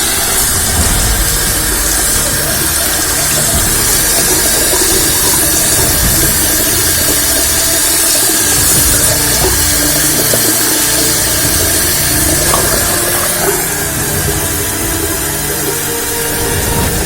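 Water running steadily over a Vostok Komandirskie Tank Commander wristwatch, a continuous broad hiss and splash that holds at an even level throughout with no voices.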